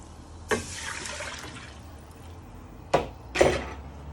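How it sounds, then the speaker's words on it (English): Milk poured into a pan for carbonara, a close liquid splash and gurgle that fades, followed by two sharper splashy bursts, with no speech. "And now you add in your milk."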